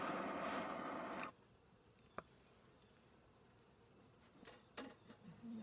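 Bees in an opened hive during a beekeeping inspection hum in a loud, close buzzing swarm for about a second before it drops away to a faint background drone with a few soft knocks.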